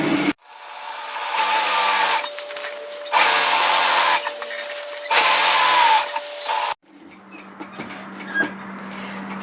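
A sewing machine stitches a dress seam at 1 cm. There are three loud, steady whirring bursts with brief pauses between them, then the motor stops and quieter handling sounds follow.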